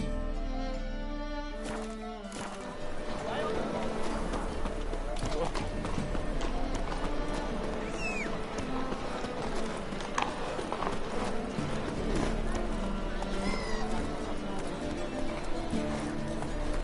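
Horse galloping in The Witcher 3, rapid rhythmic hoofbeats pounding continuously after a short pause, with in-game music and occasional voices layered over the hooves.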